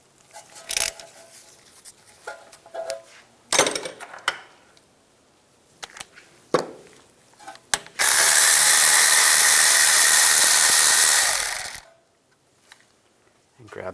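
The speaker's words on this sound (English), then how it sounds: "Use a 10mm socket. Take this bolt out." A 10mm socket on a power tool spins out the wheel speed sensor bolt on a 2014-2022 Jeep Cherokee rear hub, a loud continuous whir of about four seconds after scattered clinks and taps of tools.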